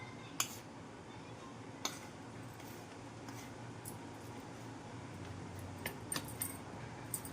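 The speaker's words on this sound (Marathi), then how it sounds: "चमच्याने मिक्स करूया" A metal spoon stirs Janmashtami prasad with cashews and almonds, giving faint, sparse clinks and taps against the dish over quiet background.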